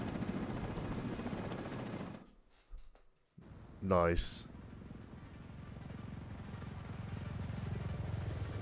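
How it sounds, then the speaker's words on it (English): Extraction helicopter in the video game The Division 2, a loud rotor whine and throb rising sharply mid-clip over steady engine drone, with a brief quiet gap before it and a short spoken word. "we need to get Chernenko on that extraction chopper now"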